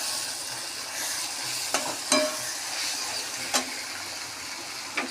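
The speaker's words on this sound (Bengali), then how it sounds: "সর্ষের তেল দিয়ে দিচ্ছি নামানোর আগে।" Thor bhapa, a banana stem dish, cooks in a pan just after mustard oil goes in, a soft steady sizzle broken by a few sharp clinks of a spoon against the pan.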